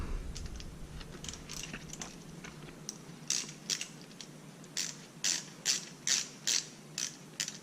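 Ratchet wrench clicking while a fitting is tightened back up during PCV valve replacement on a 2005 Chevy Corvette, a run of close, sharp ratcheting bursts that grow louder and more regular toward the end, with no talking.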